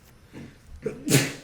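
A single sharp sneeze preceded by a quick inhale, close and sudden against a quiet background.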